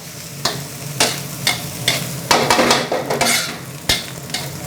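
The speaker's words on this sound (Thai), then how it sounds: "เราจะผัดให้ผักคะน้ามันสลด" Chinese kale being stir-fried in a pan for Thai soy sauce fried rice: loud, close sizzling broken by repeated scraping tosses of a spatula at a rough, uneven rhythm, with no voices.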